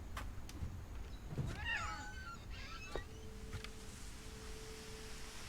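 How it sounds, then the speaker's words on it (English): A cat meows inside the game What Remains of Edith Finch, a few soft, rising calls standing out against quiet ambient tones and light clicks, with no talking over them. "Oh, there's a cat."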